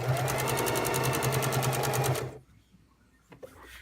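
A heavy-duty sewing machine stitches through layers of 2-inch polyester seatbelt webbing in a fast, even mechanical chatter for about two seconds, then stops, leaving near quiet with a faint click or two.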